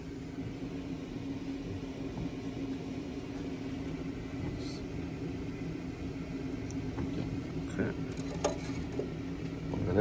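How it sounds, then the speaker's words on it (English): A boat's generator runs steadily with a constant low hum and mechanical drone, holding an even level throughout, with a few faint clicks and a slight rise near the end. "you've been running this generator for 2 or 3 days, a few hours a day"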